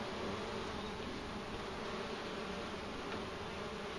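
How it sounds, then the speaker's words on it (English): Dense, steady buzzing of many bees around a transferred swarm hive, a continuous loud drone close by with no voices. "These poor bees are confused now."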